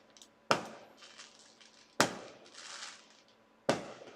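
Fireworks going off across the street at night, three loud sharp bangs spaced about one and a half seconds apart, each followed by crackling and a short echoing tail.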